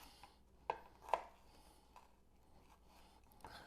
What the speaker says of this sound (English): let me chop up these jalapenos